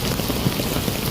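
Heavy rain pours down hard, a dense, steady hiss of drops drumming on surfaces with no other sound.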